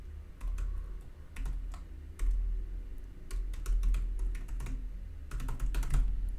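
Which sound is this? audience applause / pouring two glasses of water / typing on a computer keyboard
typing on a computer keyboard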